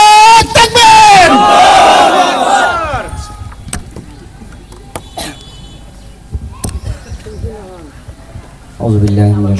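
At a Bangladesh Jamaat-e-Islami election rally in Ghatail, Tangail, a large crowd roars a loud chanted reply for about three seconds, then falls quiet under a lone voice before a new speaker begins.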